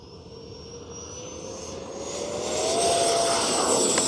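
An FMS Viper 70mm RC jet on its takeoff run, a loud continuous ducted-fan whine that rises steadily in pitch and swells as it spools up, a sharp high tone over a broad rushing roar.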